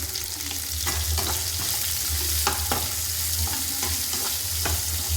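A pan of food with rock salt sautés with a constant loud sizzle, and a utensil stirring through it scrapes and taps now and then, close by with no talk.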